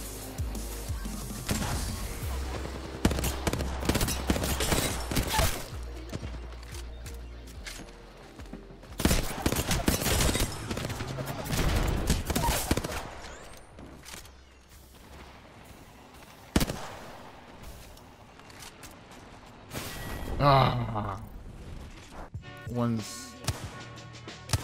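Shotgun blasts ring out in a battle royale video game, loud sharp bursts scattered through a busy, noisy stretch of gameplay with other effects, while people talk over it.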